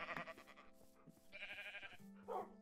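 Sheep bleat in Minecraft, several wavering blocky bleats coming quickly one after another at moderate volume over a soft hum, with a brief yelp near the end.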